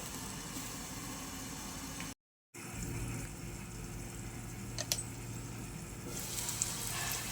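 Sliced onions frying in a pan as Godavari-style prawn and raw mango curry is prepared, a steady hissing sizzle close by, broken by a brief moment of silence and a few small clinks.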